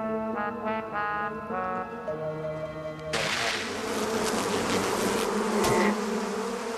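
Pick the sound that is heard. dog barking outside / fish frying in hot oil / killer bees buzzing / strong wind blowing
killer bees buzzing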